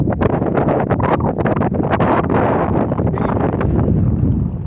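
Strong wind gusts roar across the water and buffet the microphone on a fishing trip at Cumberland, a loud continuous rumbling blast throughout.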